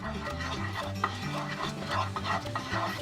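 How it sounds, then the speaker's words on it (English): A wooden spoon scrapes and stirs around a pan with soft, repeated knocks over a steady sizzling background. "I'm gonna grab this wooden spoon and just give it a good stir."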